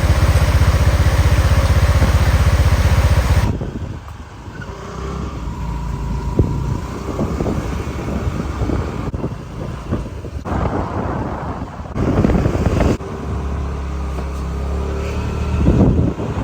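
A loud roar of water overflowing a lake's spillway fills the opening seconds, then settles into a lower, steady flowing rumble that continues to the end.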